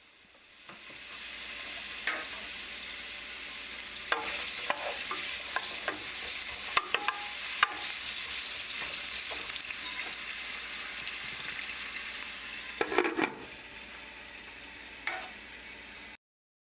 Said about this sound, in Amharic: ጋለ ካለ ድስት ላይ ዘይት አደርግና ካሮቱን እጠብሰዋለሁ።